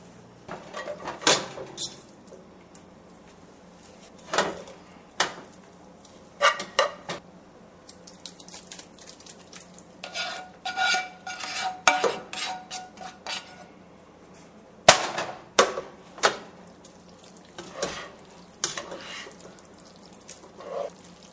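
Corkscrew pasta being mixed in a cooking pot, producing scattered close metallic clanks and scrapes of a utensil against the pot, spaced out irregularly over a quiet background.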